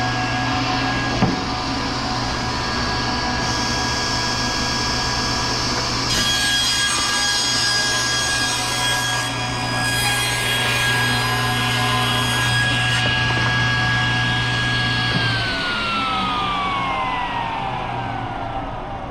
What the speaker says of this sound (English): We'll turn the saw back on.